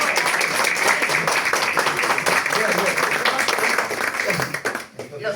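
An audience at a poetry book presentation in Spain claps in a dense, close burst of applause that holds strong before fading out near the end, with some voices mixed in.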